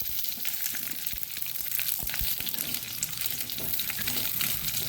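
Okra (ladies finger) frying in hot oil with curry leaves and mustard seeds, a steady dense sizzle with occasional stirring clatter, close and fairly loud throughout with no talking.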